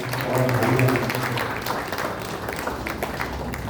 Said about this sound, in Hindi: इन सब के लिए हम सब मिलकर स्वाति जी के लिए तालियां प्रस्तुत करें।